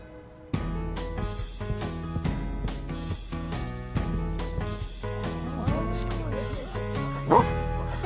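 A big red cartoon dog barks in a series of loud, close woofs over a bright musical backing, with a few children's voices mixed in.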